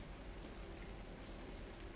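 Gentle rain falls over a city onto cobblestones, a soft steady hiss of drops with no other sounds.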